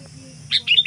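A wild sooty-headed bulbul (kutilang) gives a few short, bright chirping calls in the second half, fairly close and alone over a low steady background hum.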